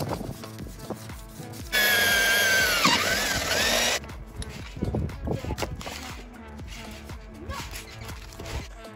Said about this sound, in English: Let's drill a hole through the bottom so we can put the galvanized screw through.